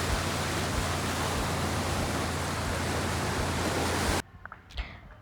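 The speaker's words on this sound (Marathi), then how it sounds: "बीच इतका जास्त खवळलेला, खूप जास्त मोठ्या मोठ्या लाटा येत होत्या." Big, rough sea waves crash at Kunkeshwar beach in a loud, continuous roar of broadband surf that cuts off abruptly, leaving faint background sounds.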